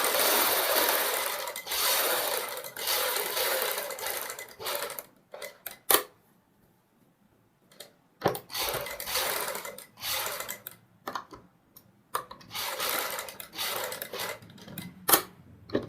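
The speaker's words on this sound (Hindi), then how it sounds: "अब हम इस सिलाई को दूसरे किनारे पे भी लगाएंगे, डबल सिलाई कर लेंगे यहाँ पे।" A sewing machine runs in steady bursts, stitching a double line of sewing along a neckline strip on a garment, with pauses and short clicks of handling between runs; the stitching is close and fairly loud, and no one speaks.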